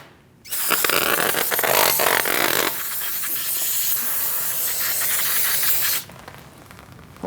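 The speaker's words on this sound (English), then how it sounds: "You want to spray this down first with some brake clean." A steady, loud aerosol hiss of brake cleaner sprayed onto a rotor of a Mercedes-Benz C300 continues for about five and a half seconds, then cuts off abruptly, leaving quiet background.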